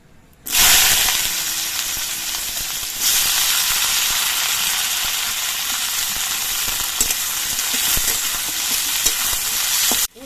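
Potatoes fry in oil in a wok, a loud, steady close sizzle and hiss that starts abruptly and runs almost unbroken, with faint stirring ticks and no voices.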